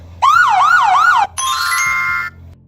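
Siren sound effect from a video edit: a loud, close electronic wail rises and falls three times, then cuts to a brighter, steady buzzing siren tone before stopping abruptly.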